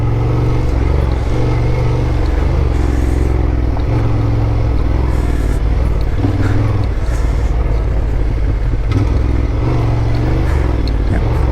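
Honda Transalp motorcycle riding Idaho trails, its engine droning loudly and steadily throughout with wind buffeting, close and continuous.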